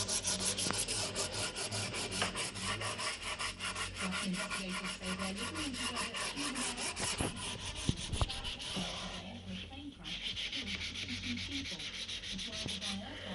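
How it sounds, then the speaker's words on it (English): Wood of a Tannoy Windsor speaker cabinet is hand sanded with 240 grit paper in fast, continuous back-and-forth rubbing strokes, close and steady for the whole stretch, with no talk. "now we're going to be using some 240 paper to rub the rest of it down"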